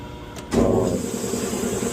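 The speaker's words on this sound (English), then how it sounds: "Say hello to the compressor. It does all the heavy painting work, making tons of noise." A body shop paint compressor kicks on, its loud low motor hum and hiss starting abruptly and then running steadily nearby.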